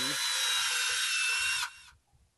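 A power drill bores a hole in wood during a tall deck chair build, a steady high whine running close and loud for about a second and a half before cutting off, leaving faint low knocks.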